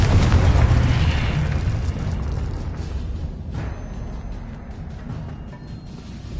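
A loud, deep explosion from the Confringo blasting curse in Hogwarts Legacy, a heavy rumbling boom that opens strongly and slowly dies away over several seconds.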